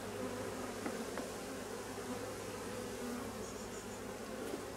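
Dense, steady buzzing of many honeybees inside a drone-laying colony hive, a continuous close-up hum with no voices over it.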